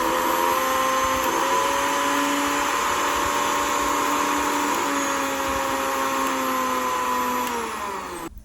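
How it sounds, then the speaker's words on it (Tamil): An empty Vidiem mixer grinder runs with no ingredients in the jar, giving a loud, steady motor whine with a sustained high pitch that holds level for about eight seconds before starting to wind down at the end. "உள்ள ப்ராடக்ட் இல்லாமல் அரைக்கிறதுக்கு சவுண்ட் இப்படி இருக்குது"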